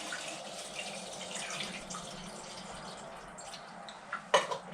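D-76 film developer, about 500 millilitres, is poured into a film developing tank at home, giving a soft continuous liquid trickle followed by a few louder splashes and clunks at the end.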